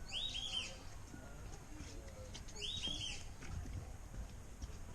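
Two loud, harsh calls from large birds at London Zoo ring out about two seconds apart over a steady background of rustling and faint voices.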